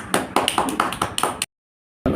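Hands clap in a steady counted series of about six sharp, close claps during a kids' puzzle game, followed by a short silence and one more burst at the end.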